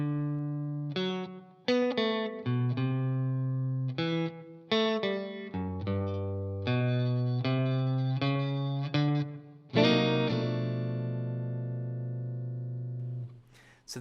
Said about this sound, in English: this is how we play the blues ending here